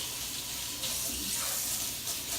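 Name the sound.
water running from a tap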